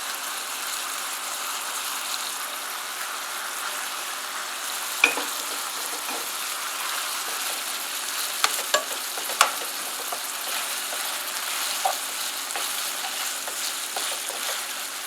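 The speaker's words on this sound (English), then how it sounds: "now my hamburger meat is browning a little bit, so I'm going to add 1 tablespoon of minced onion and 1 teaspoon of garlic powder" Hamburger meat browning in a pan with minced onion and garlic powder for a hashbrown and beef casserole, a continuous bright sizzle with occasional spatula clicks and scrapes.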